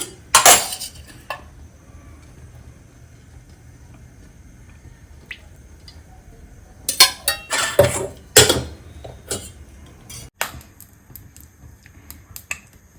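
A bowl being handled while two tablespoons of oil go in for Gujarati-style potato pakoda: sharp clinks and knocks of kitchenware, a cluster of them loud and close together, separated by quiet pauses.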